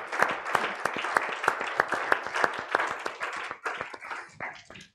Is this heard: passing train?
no